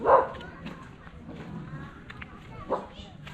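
Small village dogs in rural northern Laos, giving a couple of brief yips and barks, one loud at the start and a fainter one later, amid outdoor ambience with low background noise.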